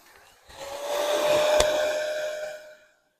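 A heat gun blows over freshly painted panel work on a Mk3 Ford Fiesta, a steady whooshing, whining blower that switches on, holds loud and close for about two seconds, then winds down, with no talking.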